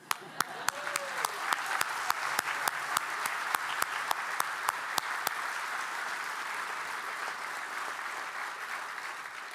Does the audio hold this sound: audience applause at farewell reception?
yes